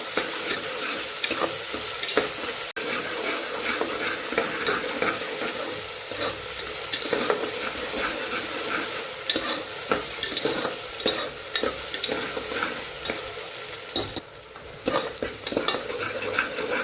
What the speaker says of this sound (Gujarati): ડુંગળી લાઈટ પિંક કલરની થઈ જાય કે ટ્રાન્સપરન્ટ થઈ જાય ને ત્યાં સુધી આપણે એને સાતળવાની છે ડુંગળીને